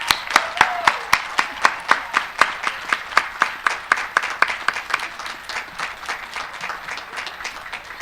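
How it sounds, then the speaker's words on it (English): Rhythmic, unison clapping from a seated crowd at a 2021 graduate commencement ceremony at Longwood University, steady claps roughly every third of a second that fade slightly toward the end. "applaud those sitting next to you for their abiding support in all of your success."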